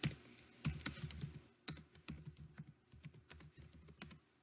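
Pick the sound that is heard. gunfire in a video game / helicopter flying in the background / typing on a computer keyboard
typing on a computer keyboard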